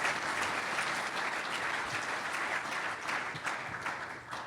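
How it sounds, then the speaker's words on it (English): Conference audience at a real estate economic forecast event gives a sustained round of applause, a dense, even patter of many hands heard from some distance and fairly soft throughout. "Let's give them a round of applause as well."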